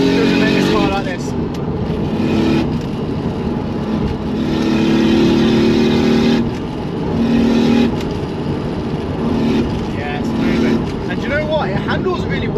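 A Toyota Supra with a manual gearbox and single turbo revs hard from inside the cabin, its engine note rising and falling in repeated surges while someone talks over it.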